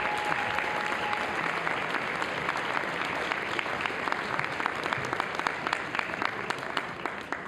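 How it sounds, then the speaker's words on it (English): The audience at the Upper Midwest Emmy Awards show breaks into steady applause for the nominees, a dense, even wash of clapping that carries on alone for several seconds. "let's hear a round of applause for all the nominees"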